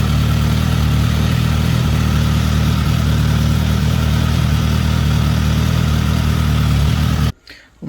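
A Suzuki GSX-S motorcycle engine idles smoothly while warming up in a workshop, a steady close, loud mechanical hum and light clatter that cuts off abruptly near the end.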